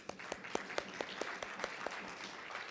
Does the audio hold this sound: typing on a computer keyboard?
no